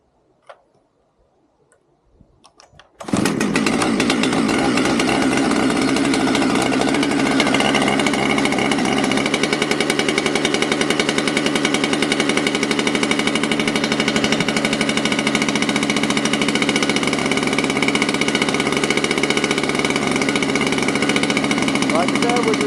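A Husqvarna 592XP chainsaw bursts to life after a quiet start and settles into a loud, steady, buzzing fast idle that holds evenly for the rest of the clip, close by.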